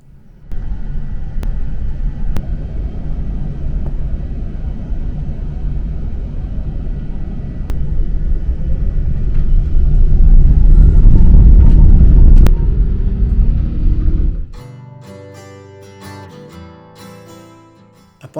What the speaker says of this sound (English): we taxi through the empty Perth airport to the runway.